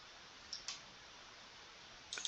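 Computer mouse clicking while working in Solidworks: a few faint, sharp clicks, two close together early and a couple more at the end, over quiet background hiss.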